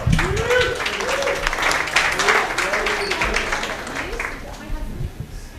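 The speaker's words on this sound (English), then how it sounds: "Ladies and gentlemen, give a warm welcome to Michael Martich." Dense crowd clapping and cheering fills a tavern during a comedy showcase, with a voice speaking loudly over the applause throughout.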